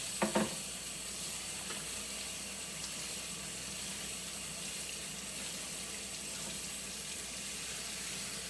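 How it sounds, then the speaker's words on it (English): Tap water runs steadily into a kitchen sink during dish washing, a continuous broadband hiss with a few brief clinks of dishes near the start. "I'll do these dishes quick"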